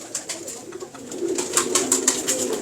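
Sadhna pigeon cooing repeatedly at close range, a soft rhythmic series of throaty coos with faint bird chirps mixed in.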